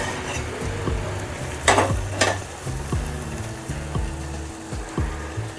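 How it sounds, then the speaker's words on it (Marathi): Masala frying in a pan with oil in an Indian egg green curry, a steady soft sizzle with occasional scraping stirs and light utensil knocks against the pan, close and without talk. "हे याच्यावरती झाकण ठेवून आपल्याला तेल सुटेपर्यंत छान मसाला भाजून"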